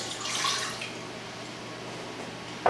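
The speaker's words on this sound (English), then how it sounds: "adding my water, 1 cup of water" Water is poured into a 4-quart heavy-bottomed saucepan while making homemade cranberry sauce, a steady close splashing and trickling that fades after a second, then ends with a brief sharper clink.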